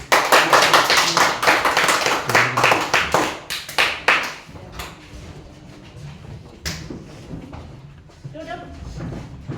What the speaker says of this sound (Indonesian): satu kali lagi kita tepuk tangan buat kelompok 3.